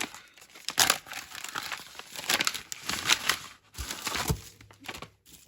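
A plastic-lined paper package holding a Parkside cable tie set is torn and pulled open, with close crinkling, rustling and sharp tearing bursts, uneven and irregular.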